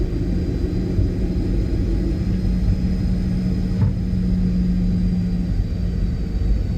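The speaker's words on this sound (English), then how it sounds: "I just love when the engines roar on the PMDG." Boeing 737 jet engines in the PMDG flight simulator hold a steady, loud, low roar throughout, a constant rumbling drone with no talking.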